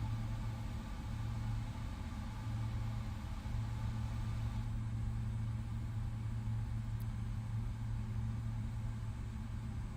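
A steady, even drone from the running jet engines of a PMDG 777 airliner in Microsoft Flight Simulator 2024. The low hum holds constant with no one speaking.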